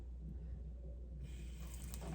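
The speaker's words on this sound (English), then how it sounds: "Just like a little stream of water." A small stream of tap water running over a sink while a fountain pen is rinsed, a quiet, soft trickle that brightens into a steadier splash partway through.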